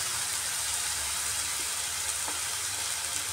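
Turmeric, coriander, cumin and red chilli powders with a splash of water sizzle steadily in a pan for tandoori egg curry, a close, even hiss with faint stirring taps.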